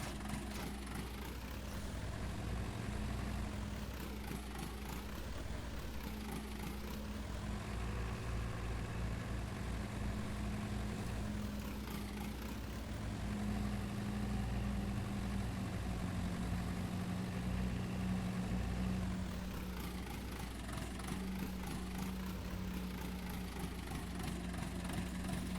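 A tractor engine idles in Farming Simulator 19, a steady low rumbling drone that stays constant and fairly quiet with slight periodic shifts in pitch. No speech over it.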